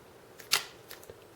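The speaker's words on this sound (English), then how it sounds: "So that's the mirror going up." A DSLR mirror flips up in mirror-up mode, one sharp mechanical clack followed by a few faint smaller clicks, close and quiet in an otherwise silent room.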